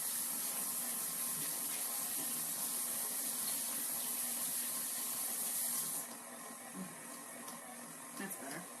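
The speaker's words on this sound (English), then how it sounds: "Let me rinse my hands again." Hands are rinsed under a running kitchen tap while making dough for dinner rolls, a steady close hiss of flowing water for about six seconds before it is shut off, leaving quieter splashes.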